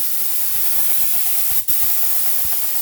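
A spray gun paints a Ford EB Falcon car, giving a continuous loud airy hiss with a brief cut-off in the middle, set against a faint rhythmic mechanical ticking.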